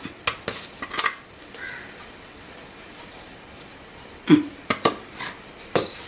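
A spoon stirs a traditional pumpkin dish in a pan, giving scattered metallic scrapes and clinks in short bursts separated by a quiet stretch, close and moderately loud, with no talking.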